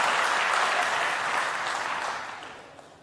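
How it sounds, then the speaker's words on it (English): Audience seated in the upper level of a Save Soil event hall in Turkey clapping, a broad wash of many hands that gradually fades away toward the end. "Those in the upper world also is clapping."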